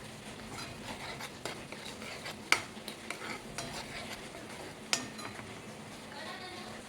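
A utensil stirs tomato sauce, salt and Kashmiri chili powder in a pan for homemade pizza sauce, giving light scraping and a few sharp clinks against the metal at close range.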